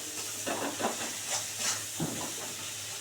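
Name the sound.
ground spice paste sizzling in pan for tilapia curry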